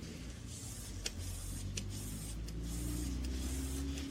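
Detailer spray misted onto a car's paintwork, a steady hiss of spray lasting several seconds with faint background noise and no voices.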